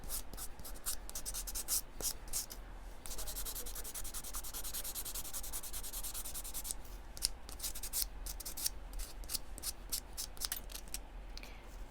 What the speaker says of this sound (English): then I like to go in and just file that nail